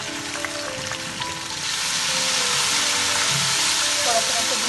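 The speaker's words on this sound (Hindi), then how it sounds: "थोड़ा सा मैं इसे भून दूँगी" Onion with garlic and ginger frying in a pan, a steady sizzle and hiss that grows louder partway through, with faint stirring and some background noise.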